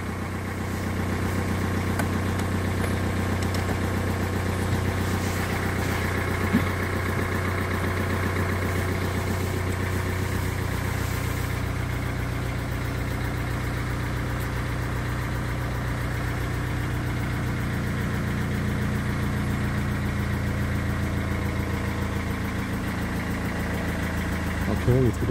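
Mercedes-Benz 200 CDI diesel engine idling after a cold start, a steady close mechanical drone that holds through the whole stretch, with a person speaking over it now and then.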